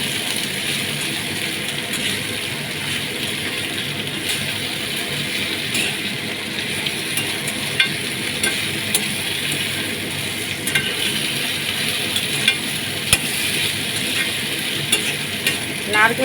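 Taro stolons (kochur loti) frying in a pan on a raised gas flame, stirred continuously; a dense, steady sizzle with scattered scraping clicks, close and fairly loud throughout.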